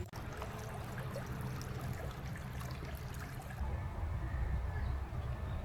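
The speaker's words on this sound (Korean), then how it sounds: "정원에 들어서자 물소리와 함께 흐르는 물길, 식물과 암석이 조화를 이루며 아름다운 풍경을 만들어냈어요" Water runs steadily along a stream channel among plants and rocks in a garden in Himeji, Japan, a continuous close rushing and trickling that swells slightly toward the end, with no one speaking.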